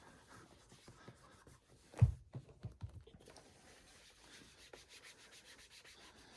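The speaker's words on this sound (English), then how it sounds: "So you do the polishing one way with Saphir, you do it another way with pure polish." Leather J.M. Weston shoes being polished with Saphir polish: soft, steady rubbing strokes with one sharper knock near the start, close and fairly quiet, with no talking.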